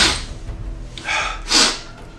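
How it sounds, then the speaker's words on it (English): A short nasal burst followed by a louder sharp sneeze-like expulsion, close and isolated, with quiet breathing before it. "And I think I got a sneeze."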